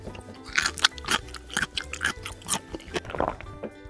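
A crunchy taco being chewed up close, with repeated crisp crunches in an uneven rhythm over a few seconds and no talking.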